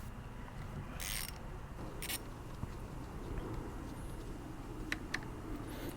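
A ratchet works loose the brake caliper bolts on a 2017 Honda Rebel 500 motorcycle, giving several short bursts of clicking against a quiet workshop background, with no one speaking.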